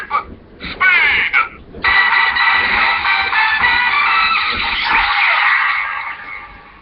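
A Kamen Rider Drive toy henshin belt gives off loud, bright electronic sound effects, opening with a few quick chirps and then a sustained revving, shimmering roar that fades slowly toward the end.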